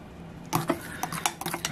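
Gluten-free Yorkshire pudding batter being scraped and mixed in a bowl, a quiet start then a flurry of close clinking, scraping utensil strokes.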